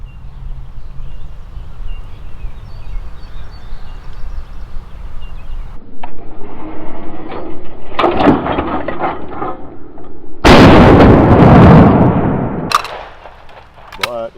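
A Browning Citori 725 12-gauge trap shotgun fires Winchester AA light trap loads at clay targets on an outdoor range, with sharp loud blasts, a clattering handling noise, a long ringing burst and a final crack.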